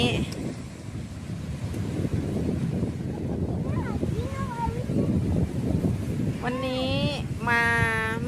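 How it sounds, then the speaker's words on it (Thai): Strong wind buffeting the microphone at the beach at Stanwell Park, a constant roaring rush with surf beneath, while someone talks throughout and high gull-like cries break in near the end. "วันนี้คือ ลมแรงนะคะ ลมแรงมาก"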